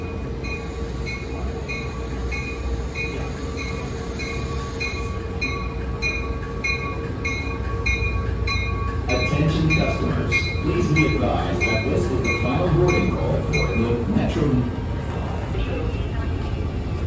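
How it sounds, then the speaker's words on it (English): Hartford Line commuter train pulling into a station with its cab car leading, a steady rail rumble and ringing tones building as the cars roll in, with wheel squeal and metallic clinks growing louder near the end. "There's our train. All right, we got the cab car in the lead."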